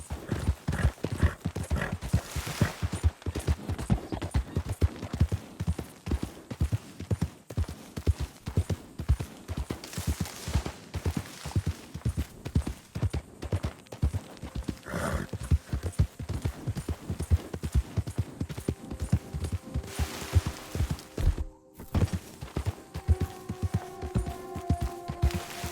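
Horse hooves galloping in Red Dead Redemption 2, a steady rapid clip-clop rhythm that carries on throughout at moderate loudness, with an occasional whinny and a man's brief spoken line.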